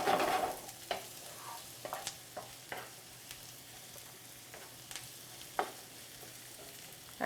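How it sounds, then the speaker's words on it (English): Steady sizzling of garlic and vegetables stir-frying in a pan, with occasional sharp clicks and scrapes of stirring, no talking. "The garlic is sizzling."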